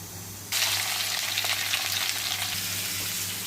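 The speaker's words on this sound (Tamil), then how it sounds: "தீச்சட்டியில் இந்த வெட்டி வைக்கிற எல்லாத்தையும் போட்டுவிடுங்க" Chopped tomato chutney ingredients hit a hot pan and burst into a loud, steady sizzle that keeps frying evenly with no voices over it.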